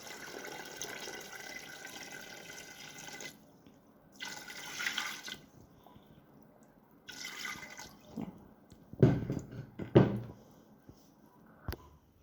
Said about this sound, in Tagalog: lalagyan natin ng tubig sa pressure cooker